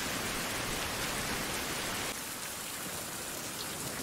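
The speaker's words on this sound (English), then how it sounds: "This rainstorm is insane." In the video game Survival: Fountain of Youth, a heavy rainstorm hisses as a dense, even wash of rain, loud at first and then dropping abruptly to a softer, steadier patter.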